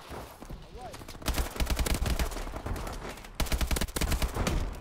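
Rapid bursts of automatic gunfire from a weapon in Call of Duty Advanced Warfare, two long loud strings of shots separated by a short gap, with faint talk underneath.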